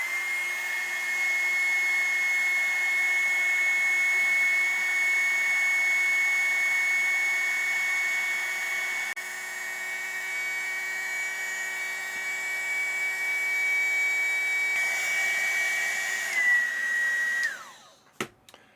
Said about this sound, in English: heat gun on here, I'm just going to blow this wire all over the place.